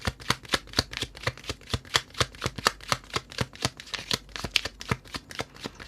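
A deck of tarot cards shuffled steadily before a love reading, a close, even run of crisp riffling snaps repeating for several seconds with no talk.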